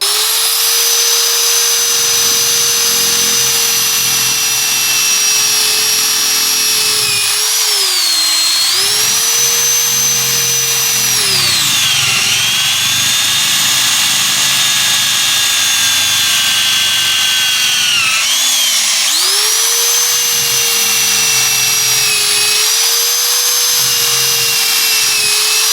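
A 3/8-inch quarter right-angle electric drill whines loudly and steadily as it bores holes, its pitch dipping under load several times before recovering, with no talking over it.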